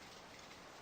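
Steady rain falls evenly in the video game Farming Simulator 15, a soft continuous hiss of drops with no other sounds and no talking.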